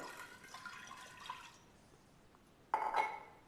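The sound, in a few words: water poured into a pressure cooker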